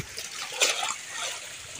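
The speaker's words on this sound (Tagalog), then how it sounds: "Okay, ayan ang alon, napakalaki." Large sea waves wash and splash against a rocking yacht, a continuous broadband rush of water with one louder surge midway, steady and fairly close.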